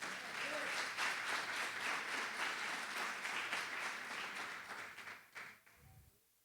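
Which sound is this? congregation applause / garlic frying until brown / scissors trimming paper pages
congregation applause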